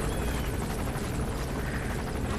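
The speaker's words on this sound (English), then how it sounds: "once the chopper get away" A helicopter flies in the Metal Gear Solid 5 video game, its rotor producing a loud, continuous, dense whooshing roar that stays close and steady throughout.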